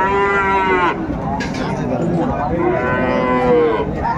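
A Sahiwal bull at a cattle market in Dinajpur lets out loud, drawn-out moos, one long call then another after a pause, with faint crowd chatter underneath.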